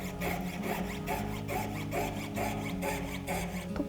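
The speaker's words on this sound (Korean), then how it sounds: "많이 튀어나온 부분은 톱을 이용해서 잘라줄 거고" A hand saw cuts away protruding cured resin on a handmade marbled resin jewelry piece, giving steady back-and-forth rasping strokes in a regular rhythm, close and moderately quiet, with no talk.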